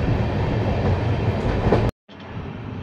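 Kolkata-Sairang Express, a 22-coach passenger train, rolling out of Krishnanagar City Junction on its first commercial run: a steady, loud rumble of wheels and carriages, briefly cut off near the end before resuming.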